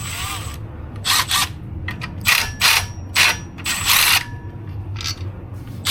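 Bursts of quick ratchet clicking sound close up as flywheel bolts come off a Honda CRX, several short runs of cranking separated by brief pauses.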